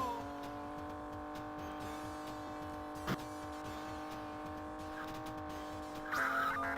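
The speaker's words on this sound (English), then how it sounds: "just listening to the sound of the car, you could tell exactly when to change gear" A car in an arcade racing video game: a steady synthesized engine drone with layered harmonic tones holding pitch, a brief sharp click midway, and a harsher tyre-squeal burst near the end, loud and continuous.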